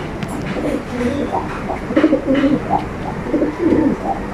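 Pigeons coo softly in low, throaty bursts, repeated several times near a constant background hum.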